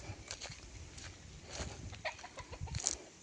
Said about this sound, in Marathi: कोंबडी आहेत.